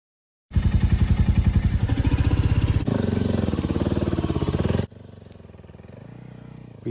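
A Royal Enfield Meteor motorcycle engine starts in a parking area in the Garhwal mountains with a loud, rhythmic thumping close by. The tone shifts partway through, then drops to a quieter, steady idle.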